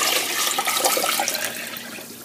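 Cold water pours steadily into a large cooking pot, a continuous splashing rush that stays loud and close, then eases slightly toward the end.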